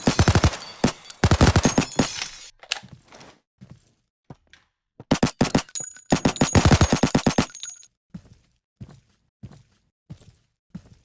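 Gunfire in the mobile offline shooter game Recurrence Co-op: rapid, loud automatic bursts in two long volleys, with scattered single shots and thuds in the quieter stretches between them.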